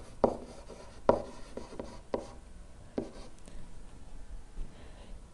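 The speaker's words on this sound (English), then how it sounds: "I should probably write that down." A pen writing a math equation on paper, with a few firm scratchy strokes and taps near the start, then softer continuous scribbling, close and fairly quiet.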